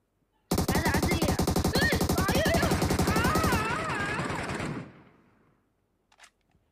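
Automatic weapon fire in the PUBG battle royale game, a loud, continuous rapid-fire burst of gunshots lasting about four seconds that then tails off into fading echoes, followed by a brief faint click.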